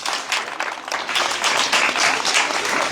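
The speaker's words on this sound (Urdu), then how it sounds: "بہت ساری تالیاں" A group of children claps at a Children's Day celebration in a shelter home, giving a brief, uneven round of applause with scattered individual claps.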